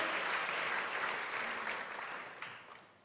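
A church congregation breaks into lively applause, a dense wash of clapping that holds steady and then eases off toward the end, with no voices over it.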